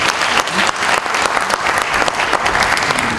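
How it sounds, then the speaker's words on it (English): An audience bursting into applause at a forestry programme event, a steady, dense wash of clapping from many hands that holds for a few seconds, loud and full, with no talk over it. "I think we deserve a round of applause for that."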